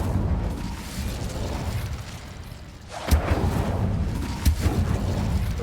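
An Incendio fire spell cast in Hogwarts Legacy, a sharp whooshing burst followed by crackling flame and a second punchy pop, mid-loud over game ambience.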